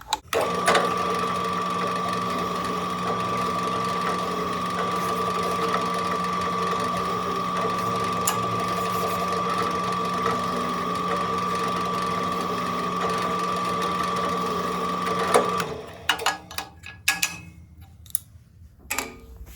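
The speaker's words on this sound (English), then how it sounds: "Now we need a countersink for our screw heads on both sides." A drill cutting countersinks for screw heads into a knife handle, a steady loud whirring drone that runs for most of the clip and then stops, followed by scattered clicks and handling noises.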